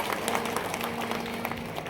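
An audience claps at a live Marathi shahiri folk performance, a steady wash of many hands that holds at an even, moderate level for about two seconds.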